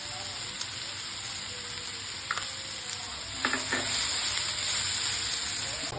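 Okra hitting a hot pan of oil for a dry stir-fry, a steady close sizzle with a few clinks and stirring scrapes, the frying growing louder in the second half.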